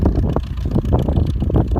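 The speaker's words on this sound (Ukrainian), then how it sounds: "Трактор їде швидше багато. Дев'ятою передачею." An MTZ-80 tractor runs fast in ninth gear while applying KAS-32 liquid fertilizer to a young barley field, a rough, pulsing low rumble mixed with gusty wind noise.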